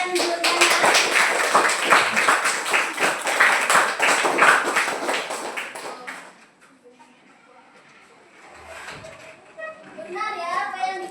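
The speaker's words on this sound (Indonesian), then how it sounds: "beri tepuk tangan dulu untuk Raisa dan" Classroom applause for two students, Raisa and Juliana, during a teaching practice lesson: loud, dense clapping from many children for about six seconds, then fading out while a teacher speaks softly.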